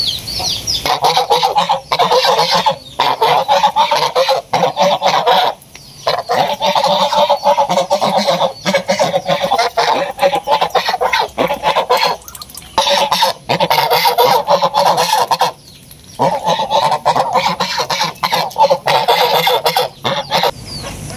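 Ducks and chickens call in a rural yard, loud, close and nearly continuous: honking quacks and clucks overlap, with only brief pauses.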